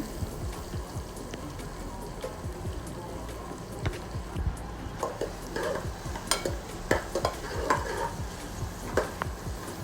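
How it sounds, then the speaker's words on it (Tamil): Sliced big onions with fennel seeds and pepper sautéing in a pan for a spicy duck gravy, a moderate sizzle with repeated scraping stirs that grow busier toward the end, no one talking. "இந்த மாதிரி கட் பண்ண பெரிய வெங்காயம் ரெண்டு நல்லா போட்டு வதக்கிக்கோங்க"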